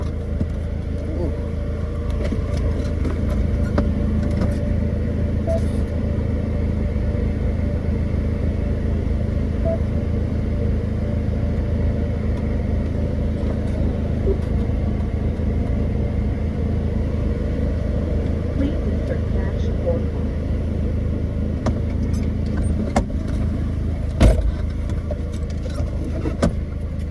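Exhaust drone of a 2016 Ford Focus run straight-piped with no muffler or resonator, a steady deep rumble held throughout with a few brief sharper pops, fairly loud and close.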